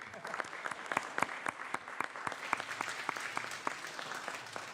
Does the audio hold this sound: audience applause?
yes